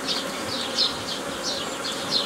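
Honeybees buzz in a continuous, close drone, with individual bees swelling louder as they pass near, over a hissy background.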